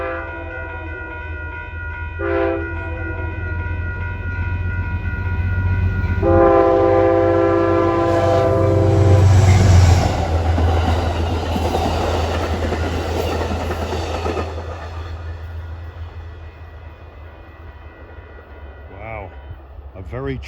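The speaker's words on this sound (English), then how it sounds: "This should be Amtrak 49, the Lakeshore Limited from New York to Chicago." The Amtrak Lakeshore Limited, a passenger train running New York to Chicago along the Hudson, sounds its horn in several loud blasts as it rumbles past close by, then the wheel noise fades.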